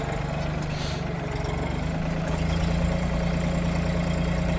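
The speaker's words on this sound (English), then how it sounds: "Thank goodness for a tractor that we aren't scooping and shoveling and doing wheelbarrows of this." A red tractor's engine idles steadily on a farm while no-till garden beds are built for a dahlia and rose field, a close, continuous low rumble that holds even throughout, with no talk over it.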